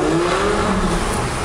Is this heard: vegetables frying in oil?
no